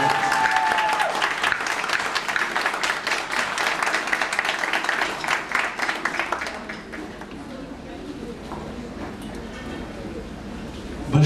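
Sustained applause fills a hall for a singer at his album presentation, loud and dense at first, then fading out after about six seconds into quieter room sound.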